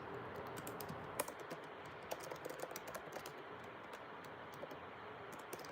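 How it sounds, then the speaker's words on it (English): Continuous clicking of typing on a computer keyboard, steady and close, with quick irregular keystrokes and a few sharper taps over a low background hum. "I'm always typing on."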